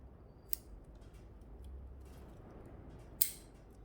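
Pruning shears make two sharp, isolated snips while cutting back branches on a large carved olive bonsai, each a crisp click several seconds apart over a quiet background.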